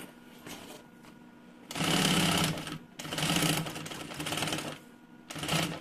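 A sewing machine stitches piping onto a mini backpack, running in several loud close bursts of rapid needle chatter separated by brief pauses, without speech.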